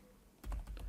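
Rapid clatter of keys on a computer keyboard, a quick burst of close, crisp keystrokes starting after a near-silent moment.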